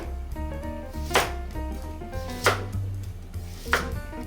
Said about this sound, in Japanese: 今日の人参はコロコロっと乱切りに